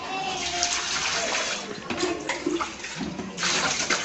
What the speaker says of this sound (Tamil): தண்ணியை எடுத்து இந்த குண்டால ஊத்திக்கலாம்.